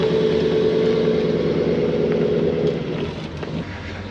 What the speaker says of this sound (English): Here comes the Aston that we heard starting up a minute ago.